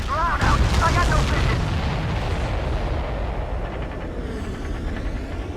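Missile explosions and cannon fire in the Ace Combat 7 flight combat game, a dense, continuous roar of booms and bursts with rumbling low end, loud throughout, with a radio voice briefly over the top.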